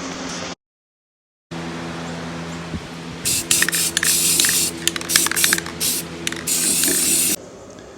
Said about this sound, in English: They should be ready to spray.